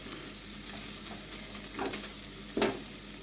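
Moong dal fries with spices as it is stirred for a vegetarian pointed gourd dish, a soft sizzle carrying two distinct scraping stirs toward the end, with no speech.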